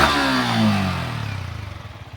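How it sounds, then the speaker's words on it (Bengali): A Yamaha MT-15 motorcycle exhaust revs up and then settles into a fast, throbbing idle, heard close and loud with no talking. "প্রথমে দেখে নেব MT-15 বাইকের এক্সজস্টের"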